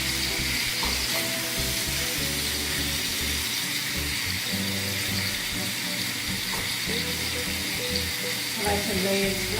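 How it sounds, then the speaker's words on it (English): Shrimp frying in a pan for a caramelized honey ginger garlic dish, a steady loud sizzle running throughout with occasional stirring clinks. "We're going to cook the shrimp for around a minute each side."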